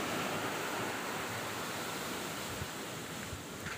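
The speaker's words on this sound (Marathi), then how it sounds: "ही पाणी ऐका, ही पाणी विहिरीमध्ये आपल्या वॉटर सप्लायचं पाणी बघा" Water from a municipal supply line gushes steadily into a well, a loud, continuous broadband rush like a small waterfall, with faint noise underneath and no clear talk.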